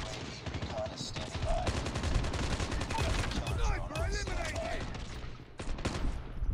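Rapid bursts of gunfire in Call of Duty Mobile, played on a phone, crackle dense and loud almost without pause, with faint talk mixed in beneath the shooting.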